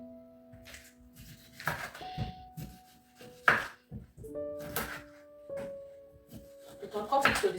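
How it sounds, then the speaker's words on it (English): A knife cuts through fish, two fish prepared for jollof rice, giving soft intermittent thunks on a board beneath steady talking. "Let's cut our fish"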